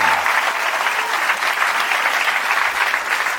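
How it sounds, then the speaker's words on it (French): Theatre audience at a comedy show applauding in a full, steady round of clapping that stays loud and even from start to finish. "donc on peut les applaudir"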